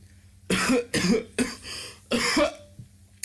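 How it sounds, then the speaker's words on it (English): Four harsh, close coughs in a row, spaced about half a second apart, each a raspy burst followed by a short pause. "You're making me cough."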